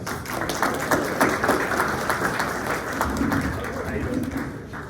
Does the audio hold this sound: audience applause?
yes